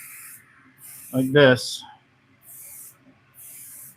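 Spray paint hisses in several short, even bursts from a can working down a gun's pick rail on a zombie-themed set, each burst alternating with brief silence; someone speaks briefly in the middle.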